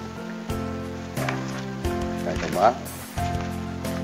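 Chicken eggs are stirred through a salt mixture for salted eggs, giving a steady gritty, rain-like rustle under ongoing speech.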